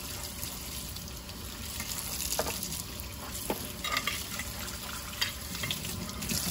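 Tap water runs steadily into a sink while dishes are washed, with light clinks and splashes scattered through the continuous flow.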